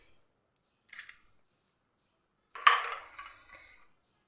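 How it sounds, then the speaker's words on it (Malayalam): A single egg cracked open and poured into a pan while making a quick coconut breakfast dish: a brief crisp tap near one second, then a louder wet splatter that trails off over about a second, close and isolated against silence. "ഇനി ഇതിലേക്ക് ഒരു മുട്ട നമുക്ക് പൊട്ടിച്ചങ്ങൊഴിച്ച് കൊടുക്കാം"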